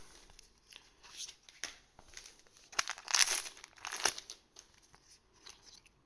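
Crinkly plastic wrapper of a Z/X trading card booster pack being torn open and crumpled, soft scattered rustles building to a louder burst of crinkling near the middle, close and alone.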